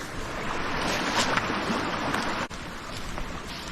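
A stream at the Peg Mill shelter in Pachaug State Forest rushes in a continuous, fairly loud wash of flowing water that fills the whole moment, with no voices.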